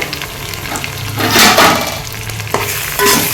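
Tomatoes, chicken and curd sautéing for biryani: loud, close sizzling with wet stirring swishes and a couple of scraping strokes against the pan, with no voices.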